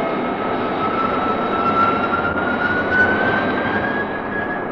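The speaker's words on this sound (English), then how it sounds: "The F-92K turned nice and tightly with the aid of her flying tail." An F-92K jet aircraft in flight gives off a steady, loud engine roar with a faint high whine riding on top, holding nearly constant throughout with no voices.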